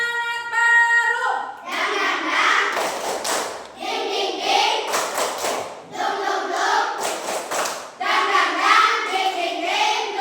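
Elementary schoolchildren in a classroom chant together while clapping a rhythmic spirit clap, their voices loud and close over repeated bursts of group claps and thumps.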